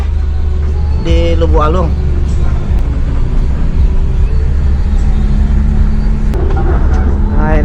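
A PO Transport intercity bus pulls away from Polkamba, its engine a loud steady low rumble throughout, with a brief horn or air sound and a voice speaking briefly over it.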